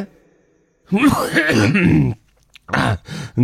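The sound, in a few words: cough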